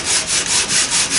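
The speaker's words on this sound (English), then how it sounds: "so now I'm just going to do a bit of sanding." Sandpaper rubs loudly and close against a wooden kayak model, with quick rhythmic back-and-forth strokes repeating about five times in a hissing, scratchy wash.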